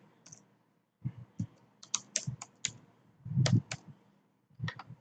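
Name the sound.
typing a password on a computer keyboard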